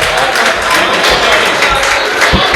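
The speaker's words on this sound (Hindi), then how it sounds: "एक बार जोरदार तालियां।" Dense, enthusiastic audience applause at a Hindi-Urdu shayari poetry recital, a steady wash of many hands clapping loudly throughout with a few sharper claps standing out.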